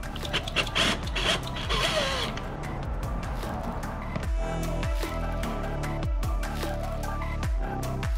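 Screws being backed out of the airbox on an RS 660 motorcycle with a power tool, a dense run of whirring, clicking tool bursts at close range, followed by steadier rhythmic mechanical pulses.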